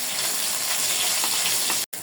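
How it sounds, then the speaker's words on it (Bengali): Puti fish frying in hot oil, a dense continuous hissing sizzle that holds steady and then breaks off briefly near the end. "মাছ ভাজা হয়ে গেছে উঠে নেব"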